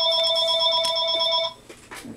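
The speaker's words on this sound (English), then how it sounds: "Let me turn that phone off real quick." A telephone ringing indoors at a craft table, a bright electronic warbling tone held for about a second and a half before cutting off, followed by faint handling noises.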